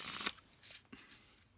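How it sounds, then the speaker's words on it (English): A brief riffle of a plastic tarot or oracle card deck being bridge shuffled, a quick burst of flicking followed by a few soft taps and clicks. "This deck doesn't bridge shuffle all that well either."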